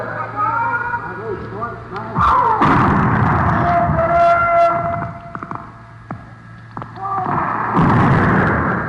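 A naval gun salvo is fired aboard a warship during a 1939 radio broadcast. Heavy booming bursts come in two bouts under an announcer's voice, with a rumbling roar trailing off between them.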